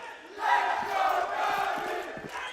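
A large esports arena crowd at a Counter-Strike world final roars in a sustained, swelling wave of cheering and chanting, heard from a distance without clear individual voices.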